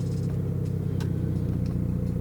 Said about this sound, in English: you're just gonna turn the car off for 5 seconds and then turn it back on